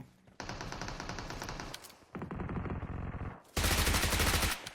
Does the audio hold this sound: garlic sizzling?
no